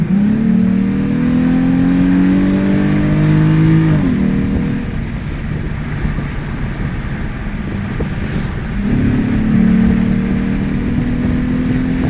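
Muffler-deleted 2008 Lexus IS250 AWD engine revving outdoors, a loud sporty exhaust rising in pitch, dropping back to a rumbling idle in the middle, then climbing again near the end.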